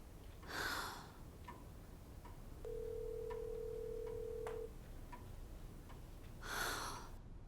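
A telephone sounds faintly in a quiet room: a ring burst, a steady tone held for about two seconds, scattered soft ticks, then another ring burst near the end.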